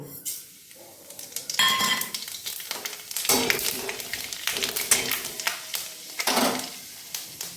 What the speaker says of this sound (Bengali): এবার আমি হাফ টিস্পুন মেথি, হাফ টিস্পুন কালো জিরে এতে ফোড়ন দিয়ে দেব